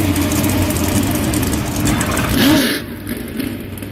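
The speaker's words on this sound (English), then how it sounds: "Gentlemen, start your engines." 1990s-style Trans-Am race cars idle at Georgia Raceway Roval, a loud, low, steady rumble of several engines that eases off near the end.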